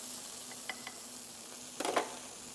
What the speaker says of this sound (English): Sizzling hot.